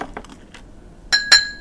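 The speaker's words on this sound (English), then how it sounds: "I'm lifting up my glass to you." Glasses clink together in a toast, two bright ringing chinks close together near the end after some soft handling noise, fairly close and with no talking.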